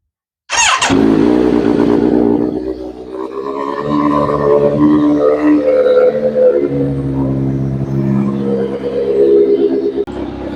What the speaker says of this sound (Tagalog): Cold start muna natin si Z900.